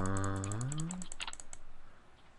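Rapid, light clicking of a computer mouse during Minecraft play, a quick series of sharp ticks heard close up after a brief tonal sweep, fading out toward the end.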